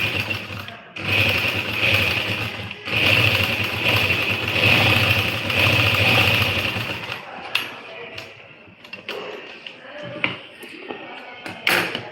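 A sewing machine runs in steady bursts while stitching the neckline of an embroidered suit, a close whirring drone that stops partway through and leaves scattered taps and handling noises, with speech mixed in.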